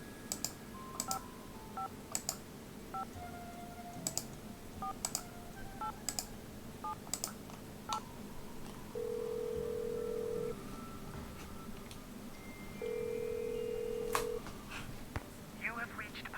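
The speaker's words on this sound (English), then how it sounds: "Let's make some more phone calls, shall we?" Phone keypad tones beep in short bursts in a Nancy Drew video game, followed by two long ringback tones while the line rings. A voice talks quietly underneath.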